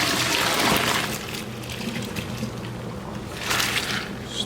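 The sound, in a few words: draining pasta noodles, water pouring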